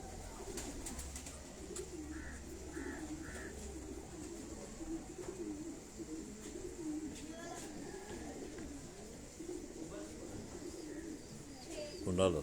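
High-flying pigeons coo in soft, repeated throaty calls close by, kept as a hobby at a loft, with a few brief chirps and someone talking over them throughout.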